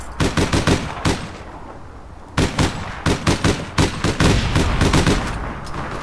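Gunfire in the video game APB Reloaded: rapid bursts of loud automatic shots in quick repeated volleys, a short pause, then more sustained bursts.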